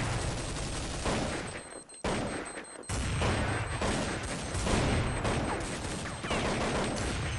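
Dense, continuous gunfire from Counter-Strike 1.6 rattles loudly through the whole stretch, with bursts of rapid shots and a brief lull near the middle, and no talk over it.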